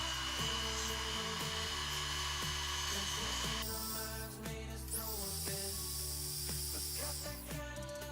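A Foredom rotary tool driven by an SR motor spins an abrasive wheel with a steady high whine and hiss, broken by repeated short grinding touches and a shift in tone partway through, close and alone without speech.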